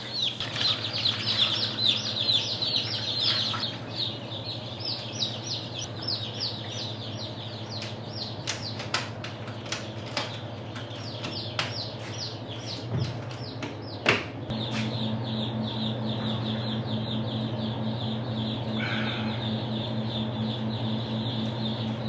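Many small chicks peep steadily and high-pitched in a barn hatcher, with brief clicks and knocks mixed in and a low steady hum of machinery underneath; no one talks.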